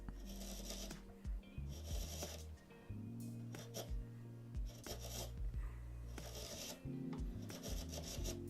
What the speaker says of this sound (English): I decided to sharpen all 4 of the chisels.